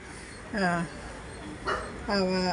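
A stray dog being chased by a group of rescuers gives two or three loud, whining yelps and whimpers with a faint background hum.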